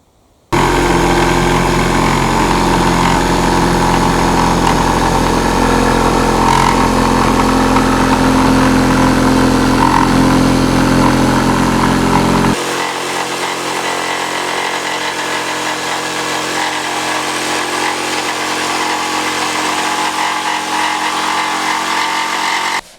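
A power tool runs steadily and loud while cutting out a sheet of plywood for a boat build, its mid-pitched motor droning continuously for about twelve seconds before the cut ends and a lower hum carries on alone.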